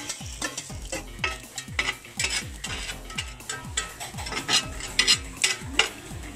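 Maggi murtabak frying in butter in a pan, with steady sizzling and repeated scraping strokes of a spatula against the pan at a quick, regular rhythm, close and fairly loud, with no talking.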